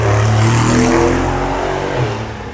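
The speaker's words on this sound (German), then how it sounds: "Oh, fährt schon wieder eine geile Karre." A sports car at a tuning show in Abu Dhabi drives past loudly, its engine droning steadily with a slight pitch shift as it goes by, no talking.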